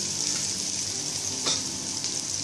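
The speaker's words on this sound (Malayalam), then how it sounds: "ഇതിട്ട് കൊടുത്തതിന് ശേഷം നല്ലതുപോലെ നമുക്കൊന്ന് വഴറ്റിയെടുക്കാം" Thinly sliced onion sautéing in hot oil with cumin and bay leaves gives a steady, close sizzle with soft crackling throughout, and no one speaks.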